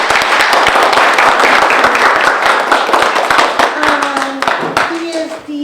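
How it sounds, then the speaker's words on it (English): Loud, dense clapping from an audience welcoming a new city manager at a chamber community outreach event, many hands at once before it thins out and a voice comes in near the end. "And round of applause."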